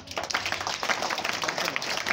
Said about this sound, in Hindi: ताली बजाना, ताली